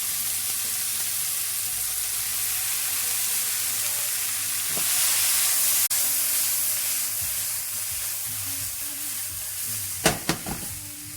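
Eggplant pieces sizzling and frying in a pan with vegetables, a steady close hiss, a few stirring scrapes and clatters of a utensil toward the end.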